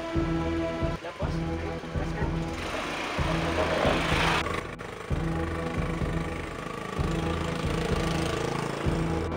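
A motorcycle engine running, a continuous buzzing idle with a steady pulsing rhythm, fairly close, lasting the whole stretch with a brief dip near the start.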